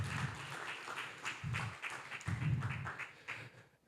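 Scattered audience clapping at a legal seminar, a modest round of claps with uneven rhythm at moderate distance that tapers off, without speech.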